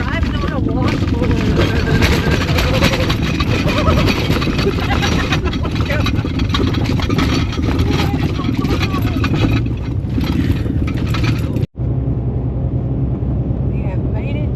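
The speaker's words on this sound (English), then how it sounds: "Kind of rough gravel. It's like driving on a washboard." Car driving over rough washboard gravel, a continuous loud rumble and road roar heard from inside the vehicle, with voices talking over it and a brief cut near the end.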